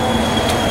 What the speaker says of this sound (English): Here comes Southwest train class